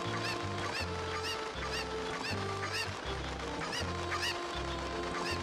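Angry cuccos in the video game Ocarina of Time cluck and squawk constantly as they chase the player, a dense, clamorous flock of repeated bird cries over steady game music.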